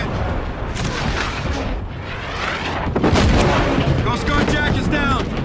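Heavy gunfire and booming blasts fill a Call of Duty: Infinite Warfare firefight, a dense continuous barrage of shots and explosions up close, with faint voices underneath.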